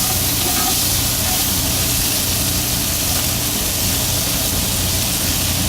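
Onions hitting melted butter in a soup pan give a loud, steady sizzle, a dense unbroken hiss with a low rumbling hum running beneath it the whole time.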